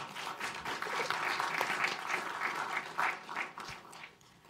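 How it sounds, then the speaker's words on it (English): An audience at a panel on tax filing and voter registration claps after a presentation, a fairly faint, uneven patter of hands that swells in bursts and dies away at the end. "can you all give Vanessa a round of applause for her presentation?"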